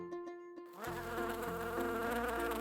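A steady, droning buzz of a bee, alone with no talk, starting softly and swelling louder partway through, with a cartoonish insect tone over a low hum.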